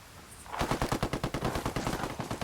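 Rapid automatic gunfire in the video game Ghost Recon Wildlands erupts after a brief quiet moment, a steady, evenly spaced burst of about twenty loud, close shots.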